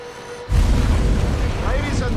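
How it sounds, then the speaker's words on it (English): A car shredder tearing apart a crushed automobile, a sudden loud roaring, grinding rumble that starts abruptly after a quiet moment and continues with dense crunching noise, while a voice talks faintly beneath it. "that's the sound of a crushed automobile being shredded"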